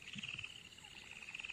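A Karavali skittering frog from Karnataka calls with a kingfisher-like voice: a rapid run of high, bright notes that pulse steadily and stand out over quiet night background.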